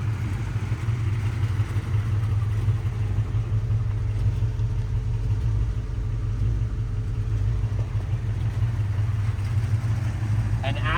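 A 1991 Jeep Grand Wagoneer engine idles steadily and close by for the whole stretch, a low even rumble with light clatter on top.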